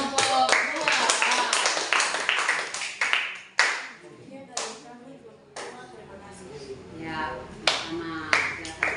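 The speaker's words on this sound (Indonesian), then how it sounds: "tepuk tangan untuk kelompok 2" A classroom of students in an ecology lesson claps for a presenting group, irregular and nearby, mixed with taps and a few voices talking.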